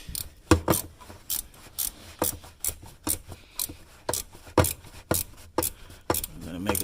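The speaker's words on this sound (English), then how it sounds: "Now I can take my ratchet again." A hand ratchet clicks in short, repeated strokes while tightening a coolant temperature sensor on a Chrysler Town & Country, each burst of clicking close and distinct with brief gaps.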